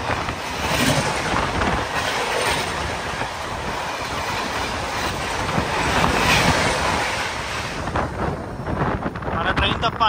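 Trains rush past at speed on a railway, a loud continuous roar and rattle of wheels on track with clattering bursts, heard close for the whole stretch.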